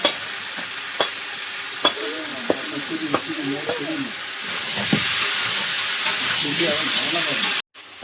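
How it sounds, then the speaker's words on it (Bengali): Pumpkin frying with spice paste in a pan, a steady sizzle that grows louder partway through, punctuated by regular sharp spatula scrapes and taps, with a voice talking over it. "কুমড়োটাও এদিকে কিন্তু বেশ ভালো ভাজা হয়ে গেছে মশলাটা আমি এর মধ্যে দেবো"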